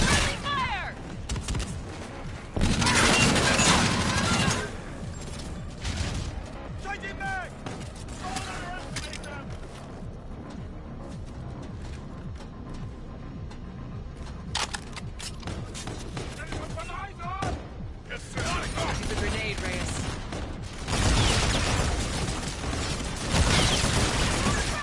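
Gunfire in Call of Duty: Infinite Warfare, with bursts of rapid shots and mechanical clatter during a hangar assault, loud at the start and near the end, with voices speaking over the combat.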